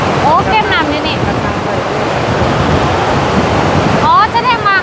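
Water rushing through a dam spillway near That Kong Khao Noi, a loud constant roar with wind buffeting the microphone, while people talk over it at the start and end.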